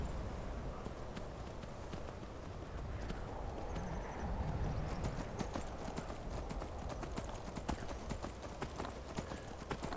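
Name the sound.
horse hooves clopping in the video game Skyrim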